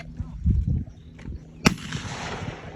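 A single sharp crack from a Glock 19 pistol at an outdoor shooting range rings out with a short hissing tail. Muffled voices and low rumble are heard just before it.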